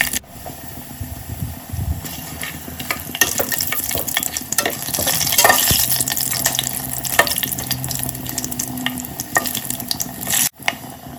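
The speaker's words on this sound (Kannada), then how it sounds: "ಎಲ್ಲ ಎಣ್ಣೆನಲ್ಲಿ ಚೆನ್ನಾಗಿ ಫ್ರೈ ಆಗಬೇಕು" Whole spices and kasuri methi frying in hot oil for mutton biryani, a steady close sizzle with stirring scrapes and occasional clatters running throughout, no talk.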